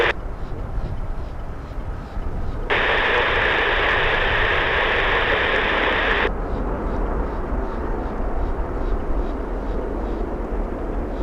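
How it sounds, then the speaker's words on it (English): British Airways jet taking off from Miami International Airport, a broad roaring rumble heard from a distance that swells into a louder, brighter engine roar for several seconds before easing back to a steady drone. "That's the takeoff, right? Taking off in the north side"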